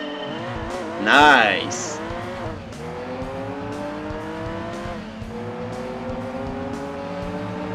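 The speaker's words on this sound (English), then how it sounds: "A modified V8 with racing muffler and air cleaner sounds like GT1 car." Modified V8 racing car with a racing muffler and air cleaner in Gran Turismo 2, engine droning steadily with a brief loud tire squeal early on, rising and shifting revs, and a short spoken exclamation over it.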